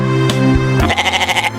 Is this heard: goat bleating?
yes